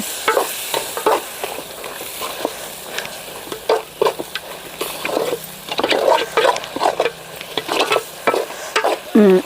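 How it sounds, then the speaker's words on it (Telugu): Spicy chicken 65 masala being stirred and fried in a pan over a wood-fired stove, with repeated scraping and stirring strokes over a steady close sizzle, no talking. "ఇప్పుడు చికెన్ సిక్స్టీ ఫైవ్ మసాలా ఒక స్పూన్ వేసుకుందాం వేసి అయితే బాగా కలుపుకుందాం"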